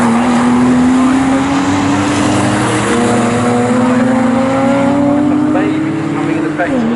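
Porsche Boxster race cars of the Restoracing class lapping Snetterton, a loud, steady engine drone throughout with rising pitch and a voice talking over it.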